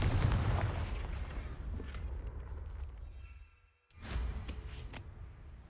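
Confringo fire spell blasts in Hogwarts Legacy, a loud rumbling explosive roar that fades out, cuts to near silence, then bursts again with another booming blast.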